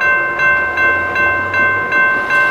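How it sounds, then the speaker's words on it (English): A freight train rolls past up close and loud, its wheels beating out a regular clicking rhythm over a steady tonal whine from the cars. "that freight train that just went through."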